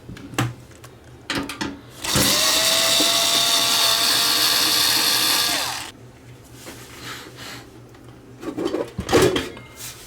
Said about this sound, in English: This one's a TCRX420 Cassette Deck auto reverse in really nice cosmetic condition, but it's making a horrible noise.